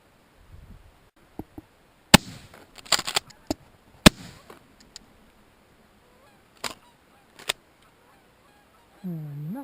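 Geese honk during a goose hunt while shotgun blasts crack out in sharp, loud bursts, some single and some in quick clusters, with scattered goose calls between and a honk near the end.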